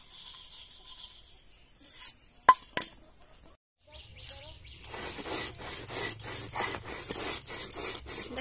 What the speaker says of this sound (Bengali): নিয়ে নিয়েছি, এগুলোকে গুঁড়ো করে নেব শিলনোড়াতে।